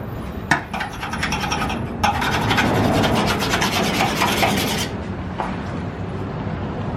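Bondo filler is sanded off the back panel of an Infiniti G35, a loud, close, gritty rasping scrape that runs in continuous strokes and then drops away near the end.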